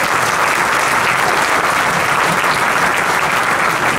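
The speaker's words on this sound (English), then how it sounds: "Please give them a round of applause." A school auditorium audience at a junior high winter band concert claps loudly and continuously, a thick sustained roar of applause with no break.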